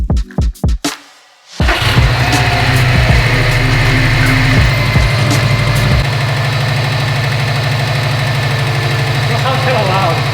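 Subaru STI engine idling with an abnormal timing belt noise after a new tensioner, a steady close mechanical drone with a ticking knock, preceded by a few sharp thumps and a brief lull.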